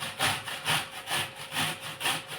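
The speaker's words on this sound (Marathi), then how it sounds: "मी याला पूर्णपणे असं किसून घेणार आहे" Raw mango, unpeeled, rubbed against a fine grater for takku pickle, giving a steady rhythmic scrape about twice a second, close and fairly loud with no talk over it.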